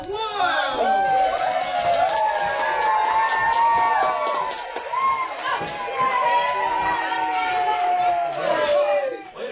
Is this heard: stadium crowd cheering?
yes